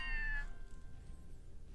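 Attacking alien cats in the Scribblenauts Unlimited video game, with one short, clear meow at the start that cuts off into quiet game background.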